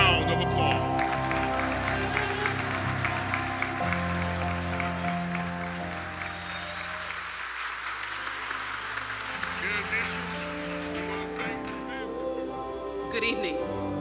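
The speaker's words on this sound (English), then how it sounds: "Let us give them a round of applause." Sustained applause from an audience at a presidential lifetime achievement ceremony honoring presidential honorees, a steady wash of clapping that continues at even strength throughout, with some voices mixed in.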